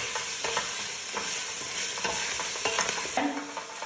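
Harira soup with coriander leaves stirred in a pot, a steady sizzling simmer with repeated scraping strokes of the spoon, close and alone.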